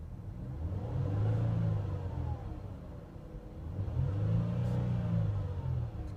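A 2008 Mercury Milan Premier AWD with a 3.0 V6 revs twice up toward its roughly 3,500 RPM limiter, each swell rising and falling back to idle, close and steady, with no talk.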